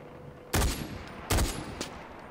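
Loud unsilenced gunfire in the video game Far Cry 4: two heavy bursts about a second apart, then a smaller shot, each with a sharp crack and a booming low tail over steady background ambience.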